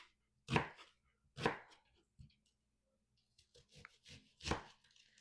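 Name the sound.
chopping purple onion with knife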